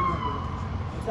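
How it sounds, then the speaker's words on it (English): An ambulance siren wails briefly in the distance, its steady tone sitting beneath voices and background noise. "Oh, ambulance."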